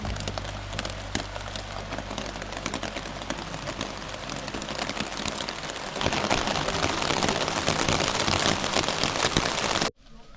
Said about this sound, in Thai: ฝนเริ่มตกแล้ว